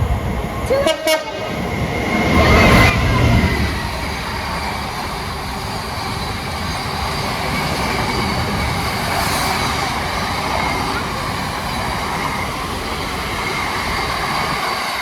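Class 66 diesel locomotive 66207 hauls an aggregates train past, with a short horn toot near the start followed by a sustained, even rumble and rolling noise of the wagons.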